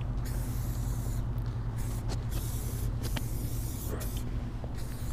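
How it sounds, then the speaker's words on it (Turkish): Silicone spray hissing onto a Kawasaki ZX10R sport motorcycle: a steady, close, broadband spray hiss that runs almost without a break and dips briefly in a few spots. "Silikon spreyle."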